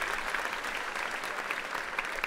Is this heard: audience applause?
yes